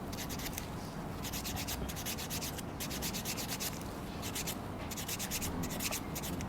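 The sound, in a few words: filing feet during a pedicure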